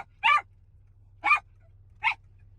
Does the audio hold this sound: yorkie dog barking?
yes